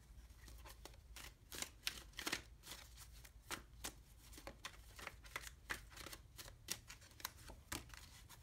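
Tarot cards are shuffled and pulled from a deck: a quiet, close run of rapid papery riffles and flicks in irregular bursts, with no talking.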